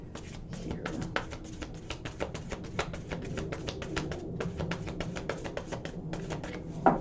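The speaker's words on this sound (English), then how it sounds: "One more shuffle here." Tarot cards shuffled continuously for several seconds, a dense run of soft rapid clicks and flutters, close but quiet.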